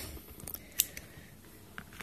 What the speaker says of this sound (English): trimming the thread